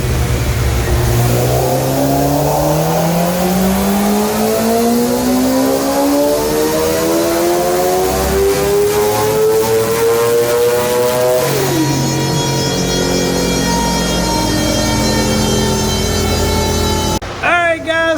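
A Suzuki GSXR 600 motorcycle engine screams on a dyno run, its pitch climbing steadily through the gears to a peak, dropping sharply, then holding a high rev before abruptly cutting off; loud and close throughout.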